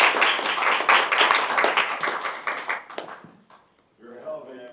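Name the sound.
audience applause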